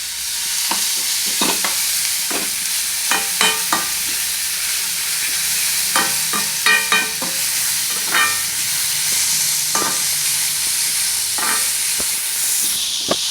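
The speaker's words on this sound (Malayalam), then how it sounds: "പിന്നെ സവാള ഒന്ന് വാടാനായിട്ട് നമുക്ക് കുറച്ച് ഉപ്പിട്ടിട്ട് വരട്ടിയാൽ പെട്ടെന്ന് വാടിക്കിട്ടും." Sliced onions fry with salt in a pan for soya chunk cutlets, a loud continuous close sizzle punctuated by clicking, scraping stirs of the spoon.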